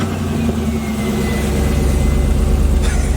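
A 1979 Jeep Cherokee Chief engine runs steadily and close by, its low rumble building slightly as the vehicle pulls away, with no talking over it.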